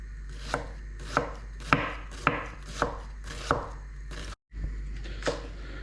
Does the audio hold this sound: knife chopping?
yes